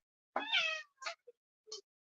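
A cat meows outdoors on a wet night: one long, clear meow followed by three shorter, quieter calls, each standing alone against silence.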